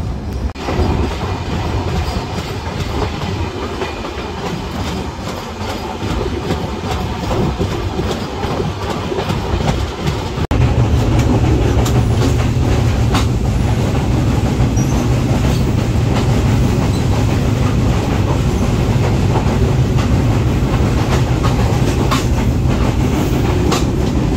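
A train rolling steadily across a long bridge near Saidabad, a loud continuous rumble of wheels and wagons that deepens and grows heavier about midway, with no talking.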